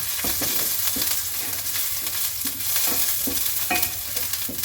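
Ginger, garlic and scallion whites frying in a pan: a dense, close sizzle runs continuously, with regular scraping stirs and light clacks of a utensil on top.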